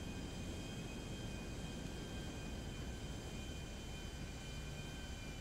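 Steady airplane engine drone heard from inside the cabin of a plane in GTA 5, a constant broadband roar with faint high whine, unbroken and fairly quiet throughout.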